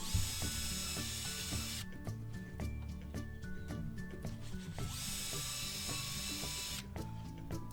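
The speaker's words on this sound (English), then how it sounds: "I'm going to drill 3 pilot holes and put 3 nice chunky wood screws in there" Mechanical clicking and whirring of a power drill driving chunky wood screws into pilot holes in a log, with bursts of motor whine and steady ratcheting throughout.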